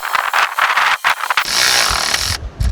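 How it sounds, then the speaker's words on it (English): Power tool driving 10 mm bolts into plastic parts during an engine and transmission install in a Chevy Impala, with a few short buzzing bursts followed by a longer steady whir, loud and close. "We'll go ahead and throw these 10 millimeter bolts in here"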